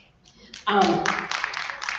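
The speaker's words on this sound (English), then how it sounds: "y'all gotta clap it up for me" An audience claps together in a quick burst that starts suddenly and holds at a steady level for over a second, fairly close and clear, with no talking heard.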